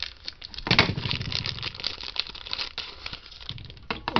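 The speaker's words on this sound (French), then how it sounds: "on va ensemble déballer le boîtier à piles." Plastic packaging crinkles and tears as the battery box for an R2-D2 model kit is unwrapped close up, with irregular rustles and crackles throughout.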